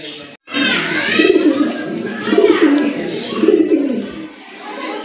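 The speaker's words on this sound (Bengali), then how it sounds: "দেখতে পাচ্ছেন এক জোড়া লাহোরি কবুতর" A pair of Lahori pigeons coo nearby in repeated, throaty rolling phrases, about three rounds at an even rhythm, warm and moderately loud.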